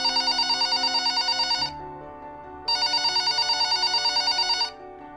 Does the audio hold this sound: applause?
no